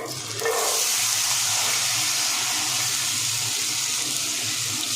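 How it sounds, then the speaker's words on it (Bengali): Cut potatoes and carrots hit hot white cooking oil and sizzle. A quick clatter at the start gives way to a loud, steady, hissing fry that holds unbroken to the end. "তেলটা আমার গরম হয়ে গেছে। এখানে আমি দিয়ে দেব এই যে কেটে রাখা আলু আর গাজর।"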